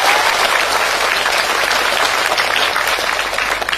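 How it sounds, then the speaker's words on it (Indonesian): Steady, dense clapping rises from a crowd at an Islamic religious lecture gathering, sustained and fairly loud for several seconds without talk over it. "Saya minta tepuk tangan dulu dong buat panitia"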